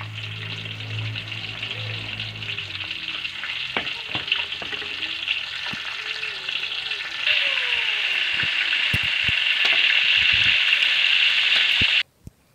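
Ingredients fry in hot oil in a pan in a village kitchen, a steady bright sizzle that swells louder partway through before cutting off abruptly near the end.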